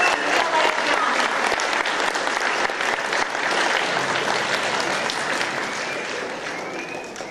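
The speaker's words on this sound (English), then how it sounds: "let's give another round of applause to our perfect score in ELA and math." Loud, sustained applause fills a school board meeting room as a crowd claps for students with perfect ELA and math scores, steady throughout and tapering slightly at the end.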